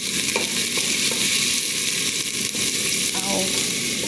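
Onions sizzling and frying in a hot pan with oil spattering, a dense steady crackle throughout with faint stirring scrapes.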